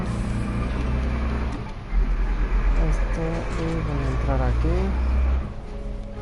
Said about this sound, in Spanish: Perdonen el ruido, pero pasan muchos carros.